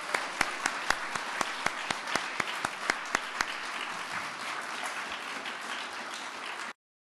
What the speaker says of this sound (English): Let's give all of our ambassadors another round of applause.